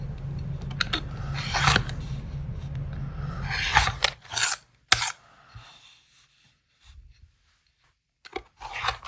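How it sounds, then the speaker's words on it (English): Rotary cutter trimming a half square triangle quilt block against a ruler-style trimming tool: soft scraping and rubbing strokes, fairly quiet, followed by a few light taps and then near silence. "lay your center right over your seam and trim around all 4 sides"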